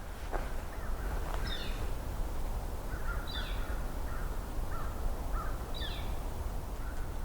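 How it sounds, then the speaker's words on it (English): Several American crows caw at a distance outdoors in three spaced groups of short calls over steady quiet background noise, with no talking. "We got 2 flickers and an American crow, or several American crows actually."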